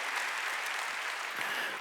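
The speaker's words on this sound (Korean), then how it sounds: "박수 치라 이게야" A church congregation at a Sunday worship service claps in steady, continuous applause, sustained and fairly even throughout with no speech over it.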